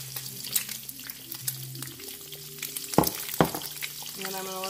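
Eggs fry with onions and garlic in a pan, a steady sizzle broken by sharp utensil scrapes and knocks, with a few clattering hits near the end.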